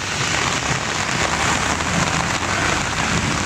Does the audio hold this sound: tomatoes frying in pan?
no